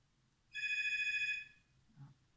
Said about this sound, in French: C'est le téléphone, mais elle ne répond jamais à son fixe.